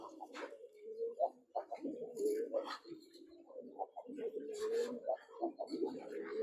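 A large black female pigeon coos in repeated soft, throaty phrases at close range, and human voices can be heard alongside the calls.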